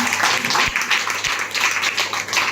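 Audience clapping at a pre-Christmas carol celebration, a scattered burst of hand claps from a gathered crowd, moderately loud and irregular, with a couple of dull low thumps.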